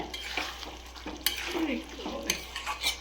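Spiced masala paste frying and being stirred in a pot for achaari prawns, a steady close sizzle with scraping spoon strokes and light clinks of metal cookware, no talking.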